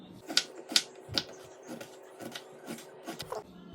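A knife chops carrots and radish into rounds on a board, making a series of sharp, close taps at an uneven rhythm, about eight strikes over a few seconds with no talking.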